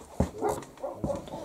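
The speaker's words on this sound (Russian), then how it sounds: "Это молодой овчарка." A young German shepherd barks close by, giving two short, gruff barks with some whining in between.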